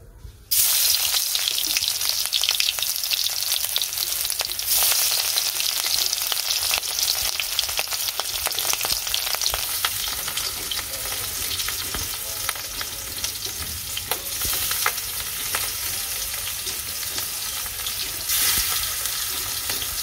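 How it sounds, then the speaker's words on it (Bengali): Hilsa fish frying in hot oil for a mustard hilsa dish, a loud steady sizzle with crackling spatter that starts abruptly and keeps on, with faint stirring and clinks through it. "তেল দিয়ে দিলাম মাছটা ছেড়ে দিই"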